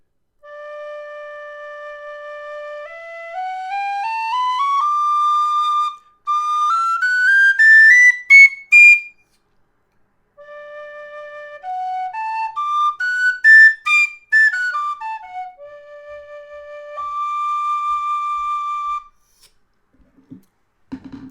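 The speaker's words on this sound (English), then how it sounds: "I will first play a scale on each. First, the full Thornton whistle, Thornton wooden whistle." A Thornton wooden high D whistle plays ascending and descending scales, clear sustained notes in two long runs separated by a short pause, alone with no talking.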